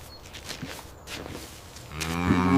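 A cow moos once, a loud drawn-out low call near the end, after quiet rustling and a few soft footsteps.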